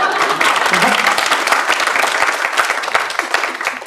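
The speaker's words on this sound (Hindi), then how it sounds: "ताली मारा।" A studio audience at a Hindi comedy show breaks into loud, dense applause and clapping that holds steady for a few seconds.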